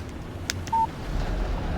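A short electronic beep sounds once as a text message alert on a phone in the video game Alan Wake, a clear single tone over quiet background.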